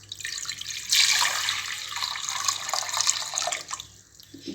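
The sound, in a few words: pouring water into a pressure cooker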